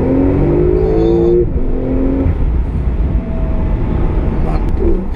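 Porsche 991 Turbo S tuned to 615 hp and 900 Nm accelerating hard, a loud sustained engine roar with rising tones through the first seconds, then a steady drone heard from inside the car.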